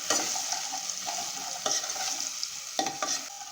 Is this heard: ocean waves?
no